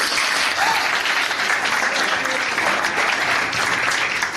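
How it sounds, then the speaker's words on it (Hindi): An audience at a youth camp at Sant Sarovar breaks into loud, steady applause, a continuous wash of many hands clapping at once that holds evenly from start to finish. "प्लीज एक बार के लिए ताली हो जाए।"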